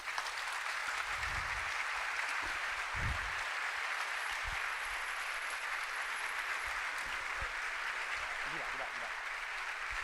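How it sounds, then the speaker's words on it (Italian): Audience at a live stage event applauding as guest Paolo Crepè is welcomed onstage, a steady, fairly distant wash of clapping with some voices underneath. "che farei un grande applauso"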